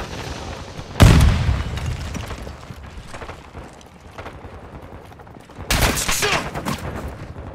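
Grenade blast and gunfire in Call of Duty: Modern Warfare II: a loud close explosion with a deep rumbling tail, quieter scattered firing and mechanical clatter, then a second heavy burst of fire later on.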